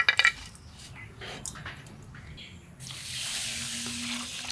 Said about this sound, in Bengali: চাল ডাল পরিষ্কার করে ধুয়ে নিলাম